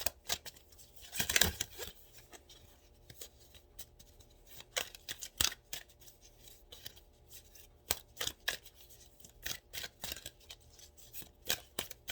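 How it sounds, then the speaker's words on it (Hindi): Angel oracle cards drawn and shuffled from a deck, quiet close-up slapping and riffling taps in irregular bursts, alone without talk. "एंजल के कार्ड्स निकालते हैं।"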